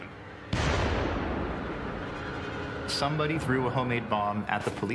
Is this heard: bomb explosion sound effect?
yes